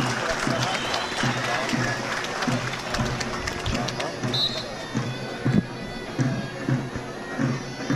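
A crowd applauds at the final bout of a Turkish oil wrestling tournament in Karaculha, Fethiye, a dense continuous wash of clapping from far off with crowd murmur and occasional louder thumps underneath.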